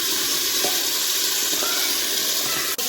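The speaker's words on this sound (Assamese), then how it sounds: "চাউলটো অকণমান দেৰি ভাজিব লাগিব" Rice sizzling in hot ghee with onion and bay leaf, a steady close frying hiss that fills the whole stretch, with faint stirring scrapes and no voices.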